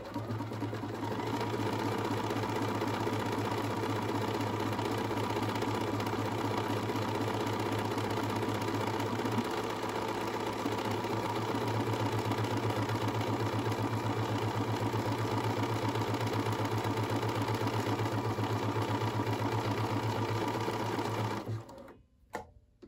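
A Bernina 535 sewing machine stitches a satin-stitch buttonhole, its fast steady mechanical whir running close and loud for about twenty seconds before stopping abruptly.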